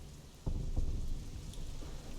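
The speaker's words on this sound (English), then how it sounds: "Why is it raining?" Rain falling in Sleeping Dogs, a steady hiss of downpour with a few soft thumps, continuous and fairly close with no talking.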